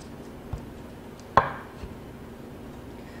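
A knife cuts a thin egg omelette garnish for bibimbap, with a few soft, sparse taps and one sharper cut against the board, quiet and close, with no talking.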